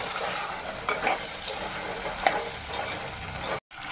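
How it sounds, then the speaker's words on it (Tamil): Eggplant sautéing in a hot pan for a Tamil black chickpea curry, a steady close sizzle with a few soft stirring scrapes, then a brief drop to silence near the end. "இப்போ கத்திரிக்காய் சேர்த்துக்கலாம். இப்போ நல்லா வதக்கி எடுத்துக்கலாம்"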